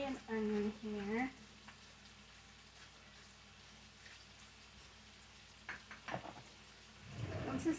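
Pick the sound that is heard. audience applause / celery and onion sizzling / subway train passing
celery and onion sizzling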